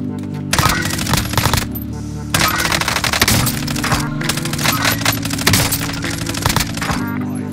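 Rapid bursts of automatic gunfire from a Bullfrog gun in a video game, loud and close, with sharp cracking shots in two long strings separated by brief pauses.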